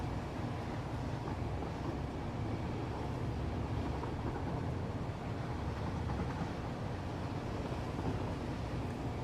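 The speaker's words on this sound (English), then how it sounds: "Damn, that train's loud." A train passes with a steady, dense rumble that fills the whole stretch at a constant level, heard close by with no voices or music breaking through.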